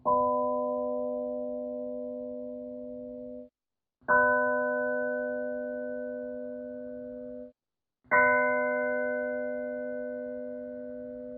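Three synthesized bell tones built from combined frequencies, each a sustained harmonic chime lasting about four seconds with brief gaps between strikes, clean and alone.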